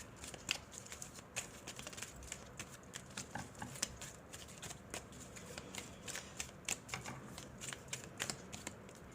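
Tarot cards are shuffled and drawn from the deck: quiet, close, repeated papery riffles and flicks in an irregular rhythm, with no speech.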